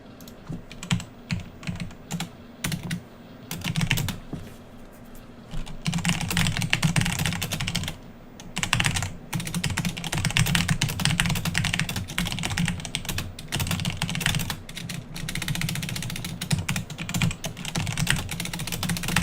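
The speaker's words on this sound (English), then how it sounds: "Since I'm going to be, yeah, sitting here typing for a while." Rapid typing on a computer keyboard at a desk, heard as a dense, close clatter of keystrokes in bursts with short pauses, continuing steadily for the whole stretch with no talking.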